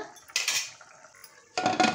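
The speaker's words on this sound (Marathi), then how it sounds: "कुकरचं आपण झाकण लावून घेऊया" Two short bursts of metallic clatter as a pressure cooker lid is set and fitted into place, close by with a quiet pause between.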